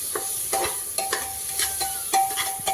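Spices and biryani masala frying in a pan for vegetable pulao, a soft sizzle under repeated sharp scrapes and taps of a spoon stirring against the pan.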